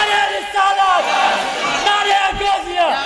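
A large crowd at an outdoor Islamic sermon roars a takbir chant back in unison, with loud massed voices swelling in repeated waves. A preacher's amplified voice leads between the responses.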